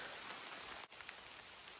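Light rain patters steadily on foliage in a Kyiv-region forest during an evening mushroom hunt, an even, close hiss of drops with a brief dip partway through and no talk.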